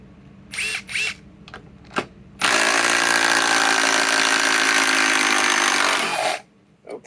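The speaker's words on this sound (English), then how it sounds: "let's remove this one with the METABO WH18DC" Metabo HPT WH18DC triple hammer impact driver removing a bolt: a few short trigger blips, then a loud sustained hammering whir for about four seconds before stopping abruptly, with no talk.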